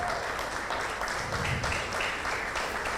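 A church congregation applauds in a dense, even wash of clapping that holds steady throughout, fairly close and continuous with no clear gaps.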